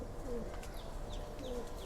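Male stock pigeons of the Lalpatti breed coo softly in a loft, a low, steady murmur of calls over faint background noise.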